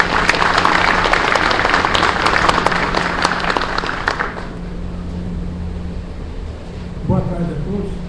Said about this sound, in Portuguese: vamos receber com aplauso o palestrante José Carlos